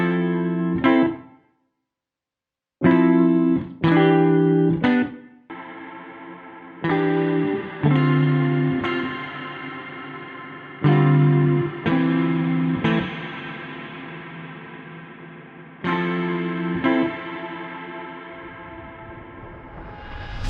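A free reverb VST plugin on its default preset processes short musical phrases, each burst followed by a long, smeared, slowly decaying tail, with one abrupt silence early on and no talking.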